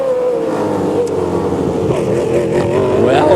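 Race cars roar down the main straight at the Long Beach Grand Prix street circuit, a loud, sustained engine drone rising in pitch as they accelerate past.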